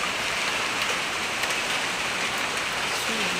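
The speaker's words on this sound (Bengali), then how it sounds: "বৃষ্টি হচ্ছে খুব।" Heavy rain pours down in an even, close wash of drops on hard surfaces, unbroken throughout, with no voices.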